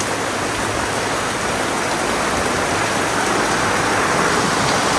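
Heavy rain pours steadily in Limoges, France, a loud, dense hiss with no breaks and no voices.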